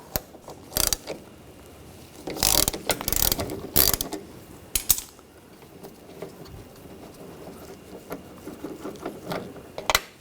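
A ratchet with a T45 socket backs a bolt out of a 2004-2009 Audi A4 Quattro door during rear window regulator work. It clicks in several short bursts separated by quiet pauses, close and fairly faint.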